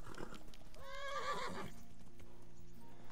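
A horse in the Kingdom Come video game gives a loud, close whinny lasting about a second, with soft hoof clip-clops around it and a steady low background hum.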